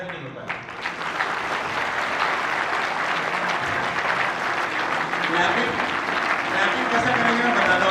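An audience in a city hall claps steadily together, a dense and continuous wash of loud applause that holds for the whole stretch, with no one speaking.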